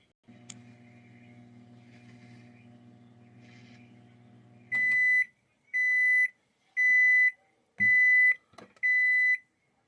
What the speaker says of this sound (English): wait until your microwave stop beeping